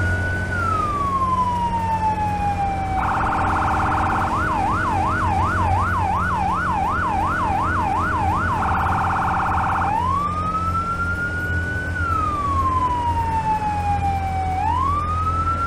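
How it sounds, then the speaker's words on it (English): An emergency vehicle siren in the Firefighting Simulator game, loud and close, alternating between slow wailing sweeps and a fast warbling yelp over a low steady engine rumble, with no talking. "That'd be awesome if there was a way to change the siren tones like you can in GTA."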